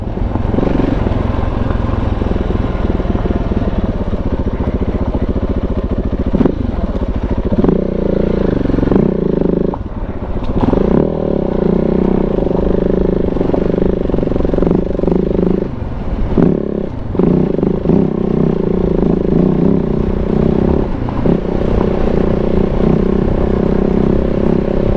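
A KTM 690 big bore motorcycle ridden along a trail, its single-cylinder engine droning loud and close throughout with shifts in revs and rattly clatter from the bike.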